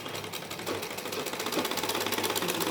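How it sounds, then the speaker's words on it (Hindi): A sewing machine runs steadily, stitching round designs on a salwar, its needle chattering in a fast, even rhythm that stays close and moderately loud for the whole stretch. "इसी तरह से हमें सारी गोल डिजाइनों पर सिलाई लगाकर उतार देना है।"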